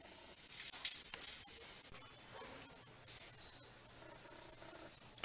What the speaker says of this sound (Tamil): இது மண் சட்டியை கண்டு கொதிக்குது